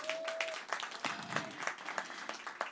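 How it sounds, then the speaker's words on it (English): A small audience claps hands at a live show, a scattered, moderately loud patter of applause. "Clap your hands if you've been here before for a show."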